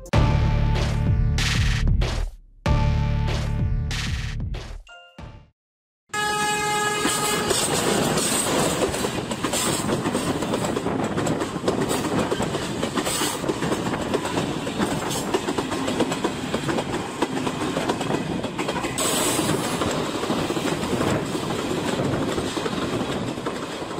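The Benapole Express passes by with loud, continuous rumbling and clattering of wheels on rails. Several sharp tonal bursts near the start could be its horn, followed by a steady roar with no talking.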